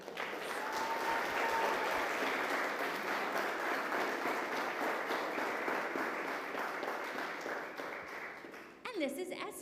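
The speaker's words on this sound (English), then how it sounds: "if we could give Elliot a round of applause" Steady, full audience applause for a graduating ringer at a bell choir farewell concert, sustained for several seconds before tapering off as a voice begins near the end.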